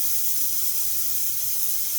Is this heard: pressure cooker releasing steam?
yes